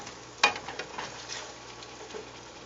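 Asparagus and garlic sauté in a pan with a soft, steady sizzle and faint stirring, fairly quiet, with one brief clatter near the start.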